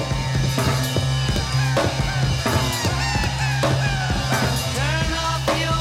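A song playing loud, with a steady droning bass note, pounding looped drums and swooping, squawking tape-loop effects layered over the top.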